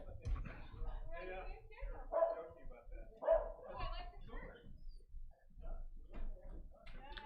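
Dog outside barking and yipping in short bursts with some whimpering, heard indoors while someone talks over it.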